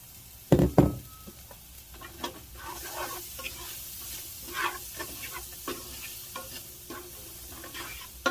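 Onions cook in melted butter in a pan for Alfredo sauce, starting with a sharp knock and clatter, then a low, steady sizzle with intermittent stirring scrapes, close by.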